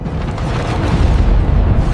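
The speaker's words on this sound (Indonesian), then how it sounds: "terjadi ledakan nuklir" A deep, loud rumbling boom from a nuclear explosion that rolls on continuously, a heavy low roar of a massive blast with no voices.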